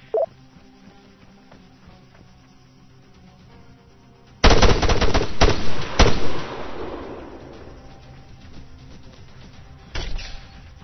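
Heavy Arma 3 firefight: a dense burst of rapid automatic gunfire erupts and rattles on for about two seconds, with echoing reports trailing off, then another loud shot later.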